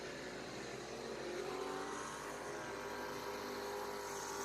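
Late model race cars roar around a dirt oval at a Saturday night short-track program, a dense, continuous engine drone filling the air at steady loudness without letup.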